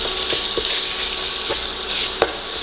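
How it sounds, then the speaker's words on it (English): Sausage browning in a pan for a chicken fried steak gravy, a steady loud sizzle and crackle of frying close up with occasional stirring scrapes, no talking. "And what I'm going to do is I'm going to brown it first."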